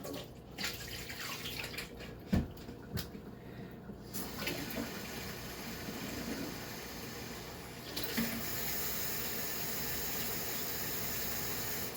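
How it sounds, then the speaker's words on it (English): Water poured out of a betta fish tank during cleaning, pouring and splashing steadily, close up, with a few clunks early on, then a continuous even trickle to the end. No voices. "We'll pour a little bit out."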